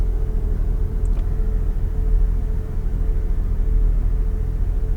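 Porsche GT3 on the track at Homestead, its engine a steady, loud low rumble that holds constant throughout with no talk over it.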